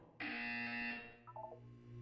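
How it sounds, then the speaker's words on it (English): Loud electronic buzzer from the Portal 2 video game, a single sustained harsh tone lasting under a second, followed by a brief descending chime of short beeps. "You will hear a buzzer. When you hear the buzzer, look down at the floor."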